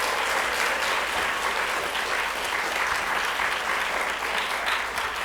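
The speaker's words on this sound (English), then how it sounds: "how about one more round of applause for George Washington?" Sustained audience applause for a George Washington impressionist at a Constitution Week celebration, a dense, steady wash of many hands clapping throughout with no talk over it.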